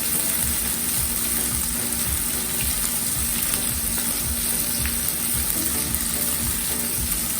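Paneer and vegetables frying in a pan for Chinese-style veggies in sauce, giving a steady, even hiss and crackle that runs unbroken throughout at moderate loudness, with no voices.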